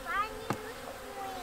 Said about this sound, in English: there's bees in here